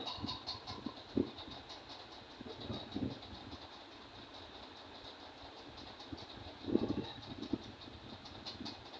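A quiet sewing machine stitches a kameez neckline in short starts and stops, with brief bursts of rapid needle clatter over a faint motor hum.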